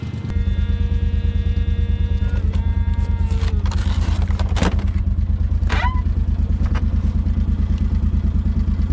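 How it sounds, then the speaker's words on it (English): John Deere Gator utility vehicle engine idling while it warms up: a loud, close, steady low putter with an even pulsing rhythm, with scattered clanks and clatter over it. "let's get this gator warmed up and slide that sucker on"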